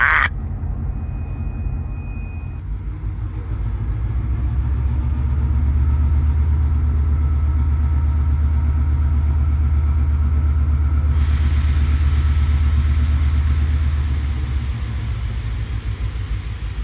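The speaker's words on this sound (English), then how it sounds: "You heard that locomotive rev up." A diesel locomotive engine idles with a deep low rumble, then swells into a loud, sustained rev that holds steady for several seconds before easing slightly, with no talking over it.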